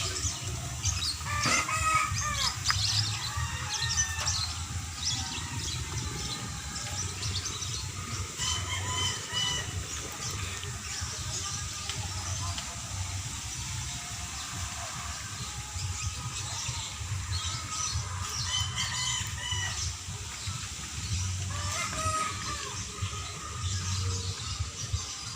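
Chickens cluck and crow in a small backyard poultry farm in the Philippines, scattered bird calls heard at a middle distance over a steady low rumble of outdoor noise, with no clear speech.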